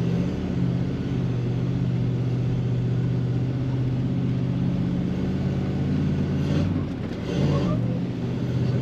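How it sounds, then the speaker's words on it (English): A 4WD vehicle climbs a steep beach dune exit over worn rubber matting, its engine droning steadily and loud throughout with a brief surge and scrabbling rush near the end, no talk over it. "Sounds like we're doing one massive skid on the way up."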